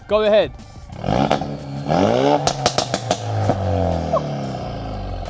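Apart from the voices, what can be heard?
Ford Focus RS Mk3 with Scorpion exhaust revving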